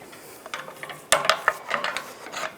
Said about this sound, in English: As you pry on the spring, you can just use a Phillips head screwdriver.